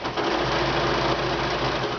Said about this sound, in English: And sew it down the rest of the way.